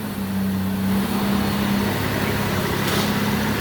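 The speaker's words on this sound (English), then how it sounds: "Sounds good, very smooth running motor." A 1998 Honda GoldWing SE motorcycle fitted with a trike kit idles close by, a smooth, even, low engine hum running steadily without revving, no talking.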